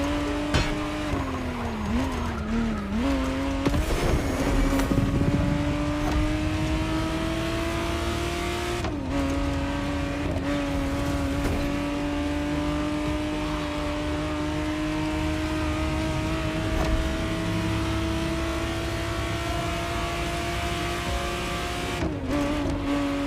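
A 1991 Ferrari Testarossa 512 TR flat-twelve in The Crew Motorfest drones loudly and steadily at high revs, dipping and climbing through gear changes early on before holding a sustained cruising roar with brief tire squeal.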